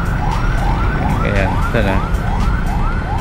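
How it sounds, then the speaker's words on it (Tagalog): Wailing ambulance siren sweeping up and down repeatedly in busy traffic, loud and steady over engine rumble, heard from an e-bike, with brief talk partway through. "Narinig natin may ambulansya"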